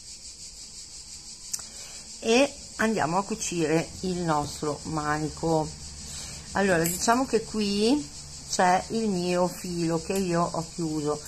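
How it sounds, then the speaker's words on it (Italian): Cicadas outside a house keep up a steady high shrill buzz throughout, continuing unbroken beneath someone talking close by indoors. "sentite le cicale fuori"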